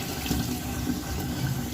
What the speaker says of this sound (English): Water is freely coming out.